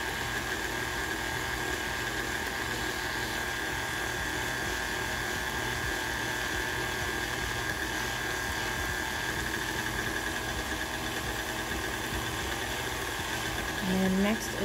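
An electric hand mixer beats chocolate chip cookie mixture in a bowl, a steady loud whirring drone that continues without pause throughout.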